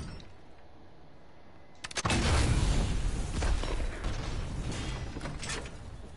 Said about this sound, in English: Alright, I'm gonna blast him with a cannon.